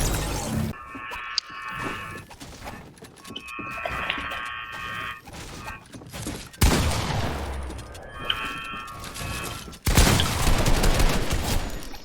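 Rapid automatic gunfire from a shooter video game, with several sustained bursts broken by short pauses and a couple of sharp, loud blasts, close and dense with no talk over it.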